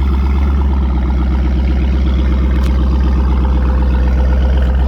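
A steady, deep V8 engine rumble from a 2012 Jeep Grand Cherokee SRT-8 with Borla ATAK exhaust and gutted cats idles loudly and close, with a throbbing low pulse and no voices.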